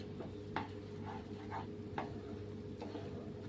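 Kalakand, a milk sweet, stirred in a pan as it cooks: a steady low simmering hum with soft scraping strokes of a spoon every half second or so, close by and moderately quiet, with no talk.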